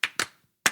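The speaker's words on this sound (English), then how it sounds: "Clap, that's for you." Three sharp hand claps, two in quick succession followed by a pause and a third, close and fairly loud with no talking.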